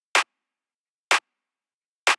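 Three short, dry clap hits land evenly about a second apart, crisp and isolated with silence between them, as a brief clap sample in a sparse minimal deep tech beat.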